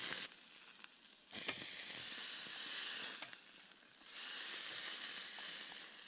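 Freshly caught trout frying in a hot pan at a remote mountain lake camp, a loud, close sizzle that swells and drops in waves as the fish is pressed and turned, with no talking.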